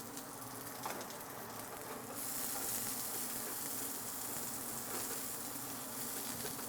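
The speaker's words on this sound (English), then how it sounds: "Oil in, onions, and we're just going to cook those down." Onions sizzling in hot oil in a pan, a steady bright frying hiss that swells louder partway through and keeps crackling continuously, close and alone without talk.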